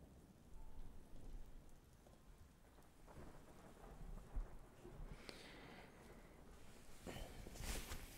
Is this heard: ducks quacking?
no